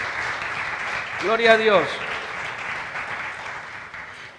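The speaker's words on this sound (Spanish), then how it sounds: "Denle un aplauso a Jesús" Congregation applause fills a church during a Spanish-language sermon, a steady broad patter of many hands throughout, with a voice briefly calling out over it midway.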